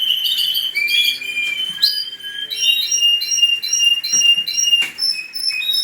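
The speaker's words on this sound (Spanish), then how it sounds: "Mirad, que está cantando ahí abajo, que es el gris" A grey pet bird, a timbre-type songbird, sings close by in a run of bright whistled notes, trills and chirps, steady and clear with no talking over it.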